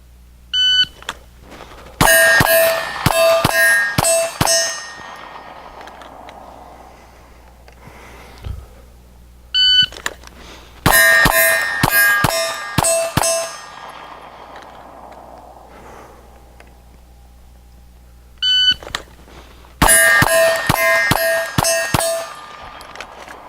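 Three strings of pistol shots ring off steel targets at a range, each opened by a high electronic shot-timer beep, followed by a rapid run of loud cracks and metallic clangs, then quiet pauses between strings.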